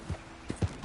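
Horse hooves clip-clop in the Red Dead Redemption 2 video game, a few soft, close thuds in an uneven gait over less than a second.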